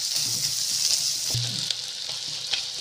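Onions sautéing in a pan for a village-style chicken curry give off a continuous close hissing sizzle, with a few soft utensil knocks and no talking.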